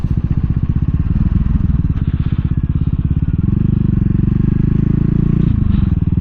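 A 2022 CCM Spitfire Bobber motorcycle ridden on the road, its engine a loud, close, throbbing rumble that shifts to a lower, smoother drone as the bike slows for a roundabout, with wind buffeting.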